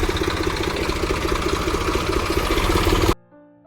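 A tractor engine runs in a field with a loud, close, rhythmic chugging throb that holds steady, then cuts out abruptly near the end.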